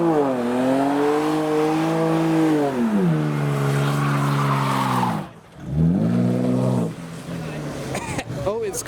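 Turbocharged S14 at a car meet revving and pulling away, with engine tones climbing and dipping, a brief lull, then another loud surge and squeal, while people talk nearby.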